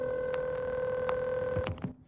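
Telephone line tones sound as a call connects, with steady electronic tones and a few short clicks and blips near the end, no voices.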